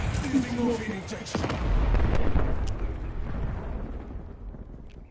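Archangel artillery strikes in Call of Duty Black Ops 6 land as heavy, rumbling explosions, with a big boom near the middle that fades into a long, decaying roar.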